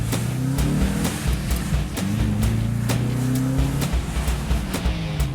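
The V8 engine of a cheap Australian car revs hard through several rising pulls with gear changes between them, loud and close, with bursts of tire noise over the engine.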